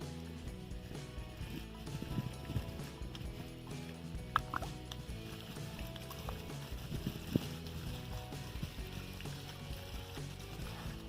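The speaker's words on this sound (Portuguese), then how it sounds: "não é que funcionou e bombeou água" A homemade water pump driven by a refrigerator motor runs nearby, giving a low, steady mechanical hum and rattle with irregular clicks and ticks alongside flowing water, fairly quiet and continuous.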